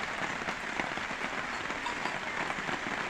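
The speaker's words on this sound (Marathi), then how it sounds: "पाऊस पण झाला आहे पाऊस सुरू" Rain falling steadily during an outing that stopped for shelter, a dense, even patter on surfaces close by, continuous and without voices.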